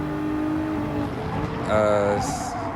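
A race car in Gran Turismo 7 takes the last turn onto the final straight, its whining engine tones shifting in pitch as it shifts and accelerates, with another car's engine alongside and a voice talking over it.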